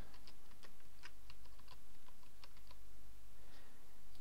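A password is typed on a computer keyboard in a rapid, uneven run of close, crisp key clicks over a steady background hum, with no voices.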